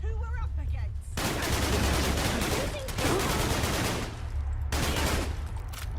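Gunfire in the video game Fallout London: a dense, loud burst of rapid shots that runs for several seconds, broken by a short lull, then resumes.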